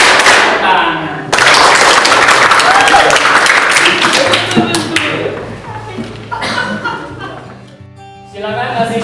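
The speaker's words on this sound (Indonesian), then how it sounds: "semuanya tepuk tunggal, tepuk dua, tangan" A class of students claps hands on a teacher's command in a classroom lesson, a burst of loud group applause and rhythmic claps with scattered thumps and some laughter, fading and then returning near the end.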